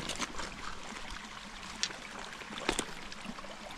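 A river runs past in the open, a steady broadband rush and trickle of moving water with a couple of brief splashy peaks, no speech.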